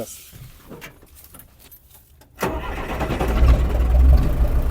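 A few faint clicks and rattles, then a GAZ truck's Mercedes diesel engine cranks and catches, settling into a loud, rumbling idle that builds slightly.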